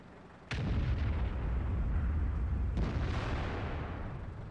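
Artillery fire in the World of Tanks video game: a sharp, heavy boom followed by a long rumbling roar, then a second, fainter crack partway through as the rumble slowly fades, with no talking.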